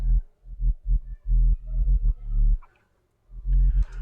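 A deep sub bass synth plays a bouncy melody of short and held notes, loud and close, with a brief gap before a final phrase.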